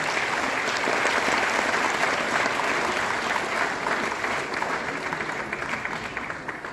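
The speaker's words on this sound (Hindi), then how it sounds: "तालियों की गुड़गुड़ाहट में कोई कमी न रहता है।" Sustained, dense applause from an audience at a Guru Purnima devotional gathering, many hands clapping steadily and loudly before slowly tapering toward the end.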